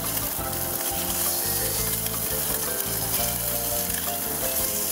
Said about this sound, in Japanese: このタラはフライパンでやると美味しくできますって書いてあったので今日はフライパンで焼きました